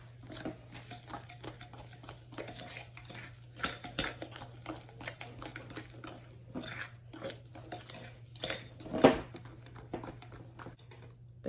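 Sugar, all-purpose flour and baking powder being stirred together in a bowl, making soft, faint scraping taps and clicks that repeat steadily over a low background hum.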